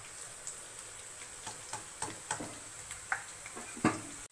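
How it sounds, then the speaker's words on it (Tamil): Finely chopped garlic and ginger frying in hot oil, a faint steady sizzle broken by light irregular ticks and clicks of stirring against the pan, no talking. "நல்லா ஒரு கோல்டன் ஃப்ரை வர வரைக்கும் ஃப்ரை பண்ணுங்கள்"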